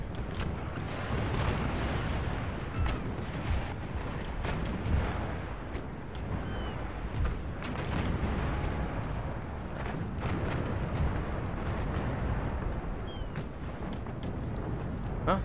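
Ship explosions and cannon fire in an Empire Total War naval battle, a dense continuous rumble of booms and crackling blasts, loud and close, with scattered sharp impacts throughout.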